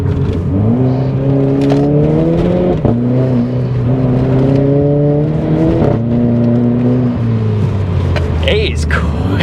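A 240bhp Renault Clio RS hatchback accelerating hard through the gears, its engine note climbing in steady loud pulls with brief dips at each gear change, heard from inside the cabin.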